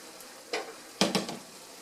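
Hot ground beef is drained from a heavy skillet, giving a few short hissing sizzle bursts and light scraping, close and moderately loud with quiet gaps between them.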